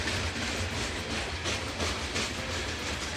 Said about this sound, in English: The train is ready to go again.